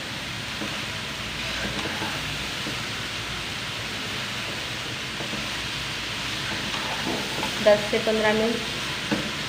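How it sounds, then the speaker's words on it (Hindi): Grated carrots frying in a pan for gajar halwa, a steady, hissing sizzle with soft stirring scrapes, and a brief spoken voice near the end. "और गाजर को अच्छे से भून लेंगे।"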